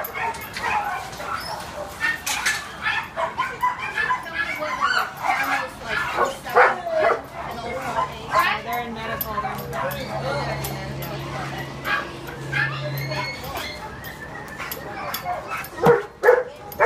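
Large, strong female rescue dog yipping, barking and whimpering in repeated bursts, close and loud, with people talking over and between the sounds.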